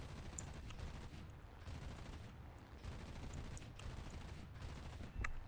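Aircraft machine-gun fire in the War Thunder air arcade game, steady rumbling bursts under continuous engine drone with a sharper crack near the end, no talking.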